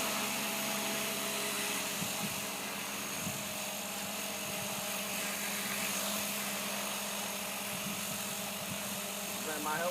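A helicopter's engine and rotor run steadily during a flying lesson, a loud continuous whine and drone filling the cabin, with faint voices beneath.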